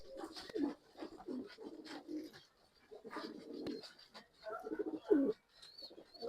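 Rekdhar pigeons at a breeder's loft in Bangalore coo in soft, repeated throaty bursts, several calls close by with short quiet gaps between them.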